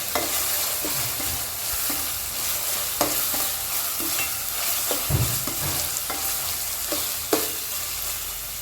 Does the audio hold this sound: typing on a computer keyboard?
no